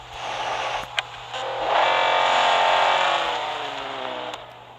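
A 1971 Lamborghini Miura engine in the racing game Real Racing 3 rises from a steady idle into a swelling rev that holds and then fades, close and clear with no talk.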